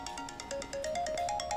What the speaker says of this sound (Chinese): 我接个电话，接个电话啊。